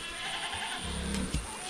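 A tethered goat bleats once, a short, wavering cry at moderate distance against a steady outdoor farm background.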